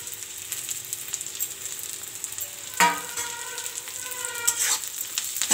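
Cashews and onions frying in a pan for a butter chicken dish, a steady soft sizzle with occasional louder crackles and stirring clinks, close up.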